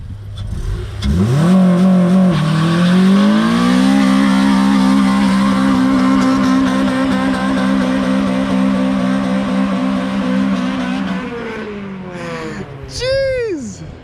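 A Honda DC5 front-wheel-drive car does a burnout, its engine revving hard and holding a loud sustained drone for several seconds before easing off, followed by a sharp rising tire squeal near the end, with voices in the background.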